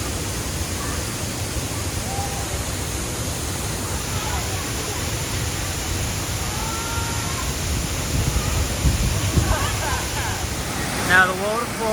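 Tad Lo waterfall in Laos, where people swim: a steady broadband rush of falling water fills the whole stretch, with faint distant voices and splashes mixed in.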